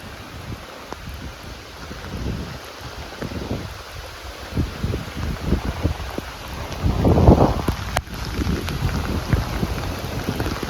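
Steady outdoor rain falls as a continuous broadband hiss with scattered drop impacts, swelling louder briefly near the middle and holding at a moderate level throughout, with no voices.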